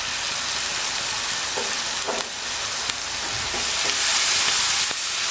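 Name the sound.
water added to spices sizzling in a pan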